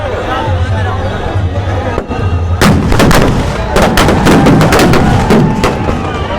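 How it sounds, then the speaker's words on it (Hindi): A burning Ravana effigy at the Kunjpura fair sets off a dense, loud run of firecracker bursts amid a large crowd, with a low rumble underneath and sharp cracks crowding together in the second half. "ये रावण का पुतला जो है धू धू करके रावण का पुतला जलता हुआ"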